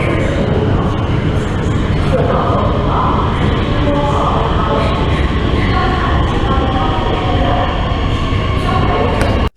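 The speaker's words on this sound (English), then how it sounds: "he waited for the train, and there's the train" A New York City subway train rumbles loudly and steadily into the station, with wheel and rail noise filling the whole stretch before cutting off abruptly at the end.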